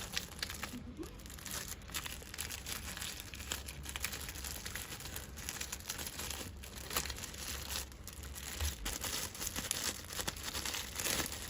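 A bar of soap, wrapped in a little paper, is pushed into a sleeve of soft POF shrink film, giving a steady stream of close, crinkling plastic rustles and crackles throughout, with no talking.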